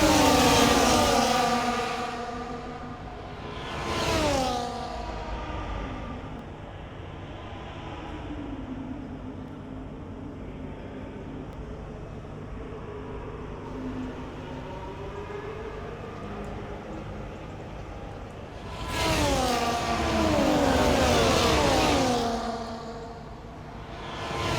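Formula 1 race cars roar past at Silverstone in the F1 24 game, two loud high-pitched passes with falling whine a few seconds apart, leaving a steady engine drone in between.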